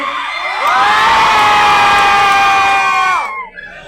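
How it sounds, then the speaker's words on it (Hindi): A large seminar audience of students yelling and cheering together at full volume, a dense, sustained roar of many voices that rises, holds for about three seconds and then drops away. "देख लो, अभी मौका है, जितना चिल्ला सकते हो चिल्ला लो।"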